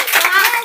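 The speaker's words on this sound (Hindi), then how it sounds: "हाँ ताली" Schoolchildren in a Class 9 maths lesson clap their hands together in a brief, dense burst of clapping, close and fairly loud, lasting under a second.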